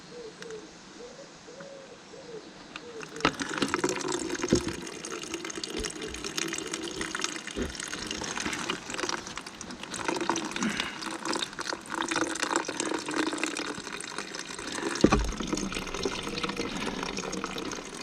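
Liquid, diesel mixed with water, drains from the fuel tank of a Fordson Major diesel tractor, a continuous splashing trickle that swells after a few seconds and keeps running; birds chirp faintly outdoors in the background.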